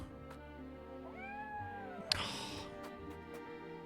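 A cat meows in the Triangle Strategy video game, one rising and falling meow over a steady game music bed, followed by a brief sharp hit.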